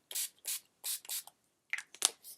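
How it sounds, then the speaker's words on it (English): NYX First Base Primer Spray is spritzed onto a face in about six short, soft hissing bursts, close up with brief gaps between them and no voices. "I do 2 spritzes on the face and 2 on the forehead"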